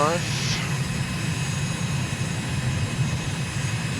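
A steady, even aircraft engine drone at a throttle setting just above idle in Microsoft Flight Simulator, holding constant and unbroken from start to finish.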